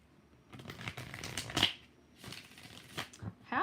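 A deck of tarot cards is shuffled in several brisk riffling bursts with short pauses between them, close and fairly quiet, with no talking.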